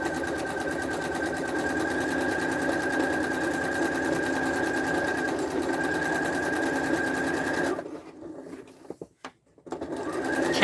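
A sewing machine with a 1/4 inch foot stitches patchwork fabric for a duffle bag, running in a steady, rapid whirring hum for several seconds before stopping abruptly, followed by a few brief clicks.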